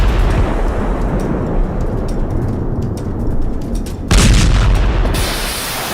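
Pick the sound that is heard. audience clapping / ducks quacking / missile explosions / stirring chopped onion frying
missile explosions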